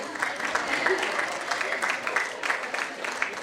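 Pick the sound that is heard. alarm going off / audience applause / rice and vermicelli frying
audience applause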